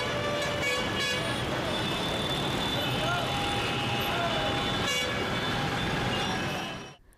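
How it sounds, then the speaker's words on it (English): Congested road traffic with impatient drivers honking car horns, several short toots and longer blasts over a constant roar of engines and road noise, loud and close before cutting off abruptly. "the repeated hooting of horns by impatient drivers assault the ears of"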